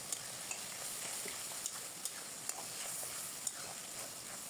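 Spices fry in oil for a koi fish curry, a faint steady sizzle broken by soft, regular scrapes of a spoon stirring the pan every half second or so, close and with no talk.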